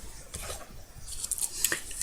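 Quiet snipping and rustling of scissors cutting paper strips on a bevel for a craft pouch, with a few soft crisp cuts close by.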